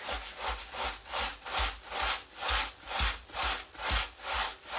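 Rust is scrubbed off a cast iron skillet with firm back-and-forth strokes, close and rhythmic, about two strokes per second in an even, rasping scrub with no talking.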